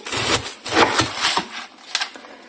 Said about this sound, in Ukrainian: нарізаємо ось цю капустинку